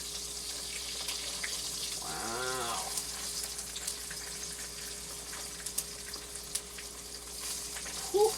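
Steak frying in a pan gives a steady, faint sizzle throughout, with a brief voice-like tonal sound partway through and a few small clicks near the end.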